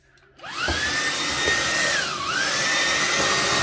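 A vacuum cleaner switches on and roars steadily close by, its whine dipping briefly in pitch before holding a loud, constant drone.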